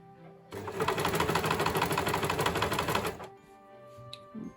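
A sewing machine stitches bias binding onto a sleeveless top, a fast even run of rapid needle clatter lasting about three seconds, then stopping, leaving quiet room tone with small clicks.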